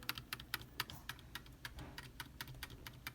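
The escape key on a computer keyboard is tapped rapidly and repeatedly during PC startup, a quick series of close, crisp plastic clicks at an uneven fast rhythm over a quiet background hum.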